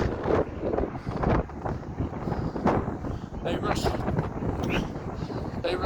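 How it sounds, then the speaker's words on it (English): Strong northeasterly wind buffets the microphone in loud, continuous gusty rumble throughout, with broadband roaring surges during an outdoor Christmas lights walk. "The wind is extraordinarily strong. It's a northeasterly."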